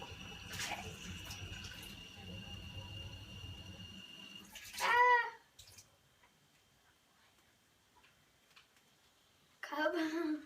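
Water from a kitchen tap runs steadily into a cup for a few seconds, then stops, and short splashing bursts from rinsing follow, with quiet room sounds between them.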